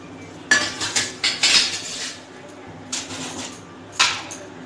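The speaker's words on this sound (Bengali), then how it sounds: "আমি এখন এই নারকেল দুধটা এই সর্ষে বাটার মধ্যে দিয়ে দিচ্ছি" A spoon clinks and scrapes against a bowl while coconut milk is stirred into mustard paste for Bengali hilsa malai bhapa, in irregular bursts of metallic clatter, fairly close and loud, with no talking.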